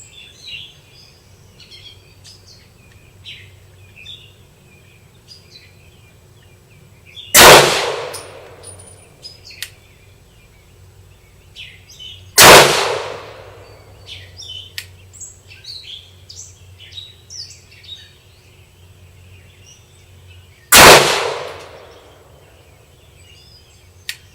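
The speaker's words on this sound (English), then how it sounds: "I'm going to go 1 double action, 4 single action." Three loud, sharp HK P30L pistol shots ring out several seconds apart, each with a metallic ringing tail, while birds chirp faintly in the outdoor background between them.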